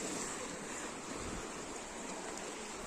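Sea waves surge into a coastal cave near a Ratneshwar Mahadev shrine by Dayal village, a steady broad roar of rushing water and wind, with no voices.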